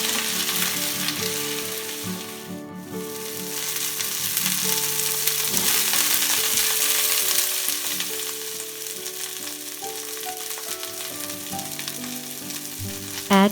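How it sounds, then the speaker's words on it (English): Cauliflower florets with cumin sautéing in a pan over high flame, a loud, continuous, close sizzle crackling throughout with no speech. "This should be done on high flame as we have to saute these."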